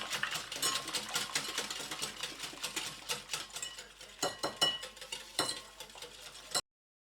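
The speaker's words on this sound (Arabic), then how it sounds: "وأنا كنخلط فقط بالخلاط اليدوي" A hand mixer whirs continuously while beating eggs and sugar, with rhythmic scraping and whisking textures, close up, cutting off abruptly at the end.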